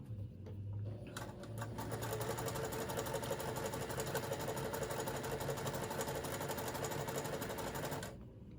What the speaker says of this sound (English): and now I'm sewing it.